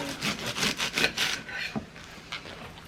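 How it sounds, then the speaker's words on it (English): Knife cutting the bottoms off washed vegetables, a quick run of crisp chopping strokes on a board, close and fairly quiet, with no talk. "I kind of line them all up after I wash them and cut the bottoms off."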